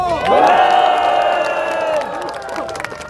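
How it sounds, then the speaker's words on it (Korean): A rally crowd at a protest gathering in Jamsil cheers and applauds loudly, with a chanting, shouting roar that swells and holds steady before easing off near the end. "전환기 선생님 위해서 박수 한번 부탁합니다"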